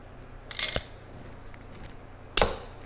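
A coir moss pole being cut, two sharp separate snips or cracks about two seconds apart, close and fairly loud against a quiet background.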